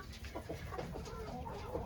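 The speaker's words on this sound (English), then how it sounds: "we just added some more chickens in here" Chickens inside a mobile pasture coop cluck softly and steadily, several birds murmuring together at a low level nearby.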